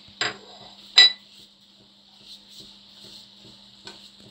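A spoon clinks against a pan while dry fruits, raisins, almond slivers, pistachios, cashews and poppy seeds are stirred into carrot halwa: two sharp metallic taps, then softer scraping and an occasional light clink over a faint steady hum.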